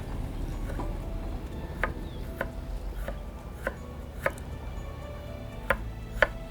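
A knife chops garlic cloves into thin, small pieces on a board, about ten crisp taps spaced irregularly, clear and close over a quiet room hum.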